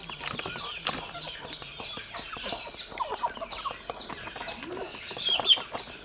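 Backyard desi country chickens in a tribal village poultry flock cluck and chatter in a busy overlapping chorus, with short close calls, a few sharper squawks and a burst of wing flapping near the end.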